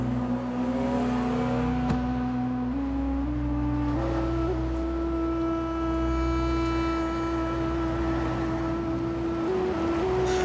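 A car drives along a road through Armenia in the mountains, its steady engine drone holding a continuous low hum with shifting tones as it changes gear, moderately close and even, with no talk.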